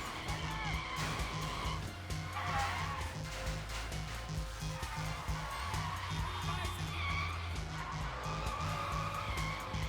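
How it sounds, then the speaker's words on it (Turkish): A car in the video game Sleeping Dogs skids along with the handbrake held, with continuous tire screeching and engine drone over a steady low rumble, loud and constant throughout. "Araba el frenine basılı daha güzel gidiyorlar."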